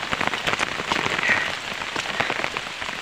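Steady rain falls on surfaces in the rainy season, a dense continuous patter of drops close by with no talk over it.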